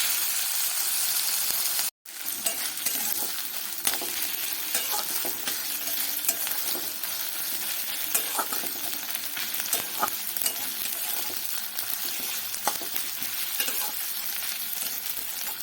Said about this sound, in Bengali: আর হাফ চামচ রসুন বাটা দিয়ে আবারও ভালো করে কষিয়ে নেব।